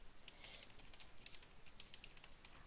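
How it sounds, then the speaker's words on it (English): Quick, irregular clicking of keys on a computer keyboard, a close, soft run of keystrokes with no voices. "I'm going to type something on the screen"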